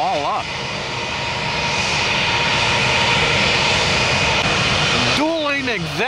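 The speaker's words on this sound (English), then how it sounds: "Dueling exec jets." Two executive jets' engines roar loudly and steadily at an airport, a thick continuous rush close by, with a voice briefly speaking over the noise at the start and again near the end.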